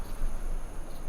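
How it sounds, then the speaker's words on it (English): Crickets chirp in a brief outdoor stretch, a faint, steady high trill over a rough background hiss with no voices. "That would be the crickets, surely."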